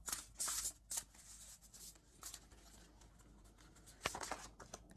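Oracle cards shuffled by hand during a tarot reading, giving several brisk papery riffling bursts near the start and again toward the end, close and fairly quiet, with softer handling between and no talking.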